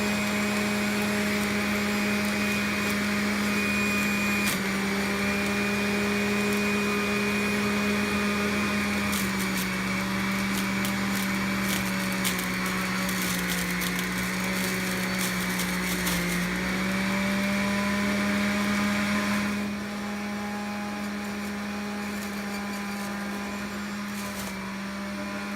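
An electric juicer grinds twigs and stems with a steady, loud motor whine and droning hum, its pitch wavering as material feeds through, then the load eases and it runs a little quieter near the end.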